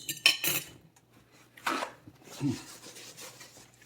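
Utensil scraping and tapping against a plate while tidying a plated zucchini and chicken pesto dish, a few short separate scrapes and clinks close by with quiet pauses between.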